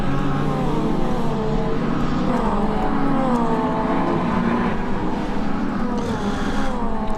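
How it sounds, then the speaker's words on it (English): Caterham race cars racing at Croft Circuit in drizzle, engines droning and revving continuously with shifting pitch as cars pass, loud and sustained without talk. "Mike Evans still under fire, this time from Tom Eden in the 64 car."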